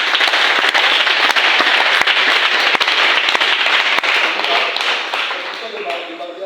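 A church congregation claps steadily in praise of the Lord, a dense, loud wash of many hands that carries on unbroken and eases off slightly toward the end, with a few sharper individual claps standing out.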